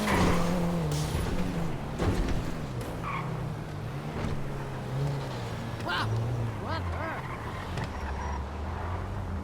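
A small older car drives with a steady engine hum and road noise throughout, fairly close, while people talk over it.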